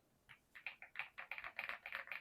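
Typing on an AJAZZ AKS075 mechanical keyboard, a quick run of crisp, close key clacks in an uneven rhythm, fairly quiet and alone.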